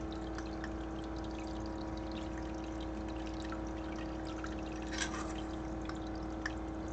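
Steady small trickle of water in a backyard creek built from green Plano pieces, a continuous faint splashing and dribbling with a low constant hum, no talk.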